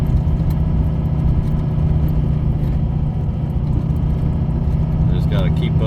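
A six-wheeled vehicle spinning all its tires in snow: a loud, steady engine drone with a deep continuous rumble, close throughout, with voices talking over it.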